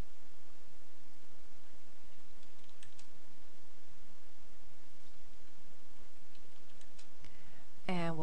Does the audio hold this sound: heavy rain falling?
no